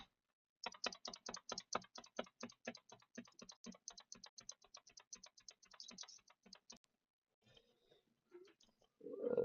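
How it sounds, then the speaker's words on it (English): Keys on a freshly deep-cleaned computer keyboard clack in a quick, steady run of quiet keystrokes for several seconds, then stop, with a few scattered taps and a louder bump at the end. "I am currently typing with it."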